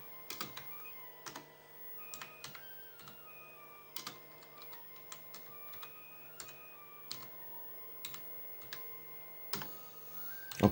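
Computer keyboard being typed on in scattered quick clicks and short bursts, faint and close, over a steady electronic hum and whine from a running PC with an Intel Celeron processor.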